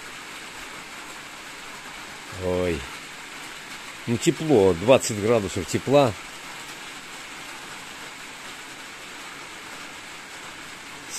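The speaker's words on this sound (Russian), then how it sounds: "А дождик все шумит и шумит и шумит и шумит." Rain keeps falling at night as a constant soft hiss beneath brief bursts of nearby talking, then carries on alone.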